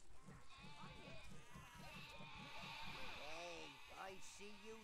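Sheep in the video game Overlord bleat in a quick run of short, wavering calls, followed by a few longer, drawn-out bleats, fairly close against a soft game backdrop.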